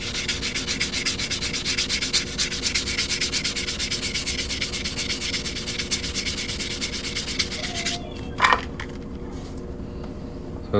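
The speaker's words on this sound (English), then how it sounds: "I'm gonna sand it a little bit more." Steady, close rasping of sandpaper rubbing a New Jersey quarter being shaped into a coin ring, continuous for about eight seconds, then stopping, followed by a couple of brief clicks and quiet handling.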